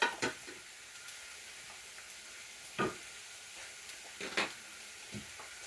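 Steak frying in a pan with potatoes and onion gives a faint, soft sizzle, broken by a few short crackles and pops spread across the stretch, heard close with no talk.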